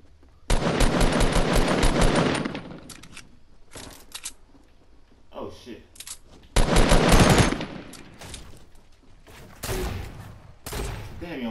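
Fortnite assault rifle fire, loud rapid bursts in two main volleys with scattered single shots between, from a squads match with a voice speaking faintly at times.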